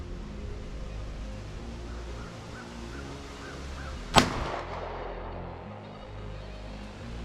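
A single sharp, loud report from a snub-nose revolver on a 25-yard range cracks out against quiet outdoor background noise, then fades quickly.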